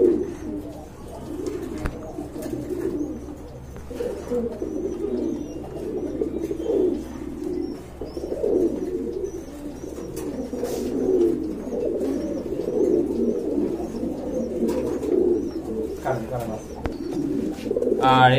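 Pigeons coo continuously at a farm selling local and foreign breeds, a dense low burbling chorus with occasional chirps and wing flutters, while someone talks over it.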